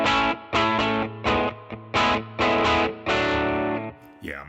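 An electric guitar played through a '57 Fender Deluxe amp simulation in AmpliTube 5, strummed in short chord bursts with a slightly driven, harmonically rich tone, ending in a sliding note as the strings ring off.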